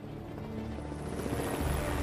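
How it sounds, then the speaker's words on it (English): Helicopter in the Batman: Arkham Asylum video game, a steady, fairly loud rotor drone that swells slightly toward the end, with no voices over it. "Why are there helicopters?"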